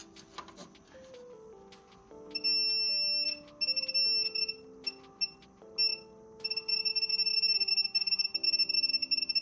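During a PS5 repair, a battery-powered beeper gives out high electronic beeps, first in short bursts and then a fast, insistent run toward the end, over lower, shifting tones.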